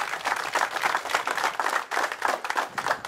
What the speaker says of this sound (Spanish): Les pido también un fuerte aplauso.